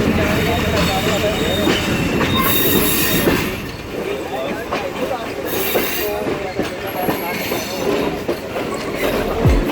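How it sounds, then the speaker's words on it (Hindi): Sir Syed Express passenger train at a station in Pakistan, with loud close rolling clatter, wheel squeals and metallic screeches throughout, plus broad hiss and background voices of a busy platform. "हमारी सर सैयद एक्सप्रेस 2 मिनट का स्टॉप करेगी और फिर अपने आखिरी स्टॉप यानी रावलपिंडी की तरफ चलने लगेगी।"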